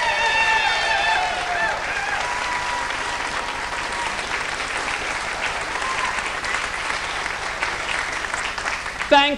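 Theatre audience at an adult pantomime of Aladdin at the Pavilion Theatre in Brighton claps loudly and steadily, with a voice singing over the start of the applause.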